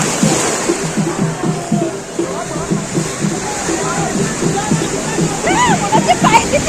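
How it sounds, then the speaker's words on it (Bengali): Rushing, churning ocean waves roar steadily at a beach in heavy surf while a person talks over it throughout. "আজকে ঢেউয়ের কোনো তুলনা নেই, খুব পরিমাণে ঢেউ আসছে, প্রচুর পরিমাণে ঢেউ আসছে"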